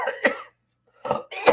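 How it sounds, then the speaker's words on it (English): Two short, harsh coughs, a brief silence, then two more dry coughs, close and fairly loud with no talking. "Didn't mean to cough on you like that"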